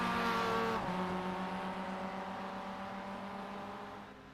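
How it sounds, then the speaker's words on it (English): A race car in a sim racing game, SCCA track night, brakes late into a bend and turns, its engine droning loudly with a tonal whine that shifts pitch partway, then fades slightly. "braking nice and late there, getting the car turned."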